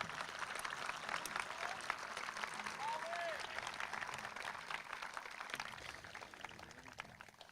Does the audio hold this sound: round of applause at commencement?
yes